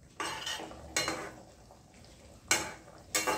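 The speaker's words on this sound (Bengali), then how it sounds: "খুন্তি দিয়ে আস্তে আস্তে ডুবিয়ে দেবো মাছগুলোকে।" A metal spatula pressing pabda fish down into a pan of gravy, four distinct scraping clinks against the pan at irregular intervals over quiet background, no voices.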